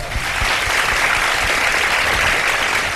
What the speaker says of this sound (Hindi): बड़ी तालियां बजा दें एक दफा।